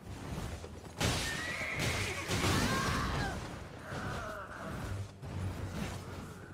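A horse in the video game Elden Ring whinnies in short bursts over a steady rushing background, with faint hoof and mechanical clatter mixed in.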